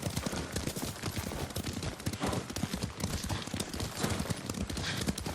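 Rhythmic clip-clop of horse hooves at a steady gallop in Ghost of Tsushima, close and continuous, with a rough outdoor background.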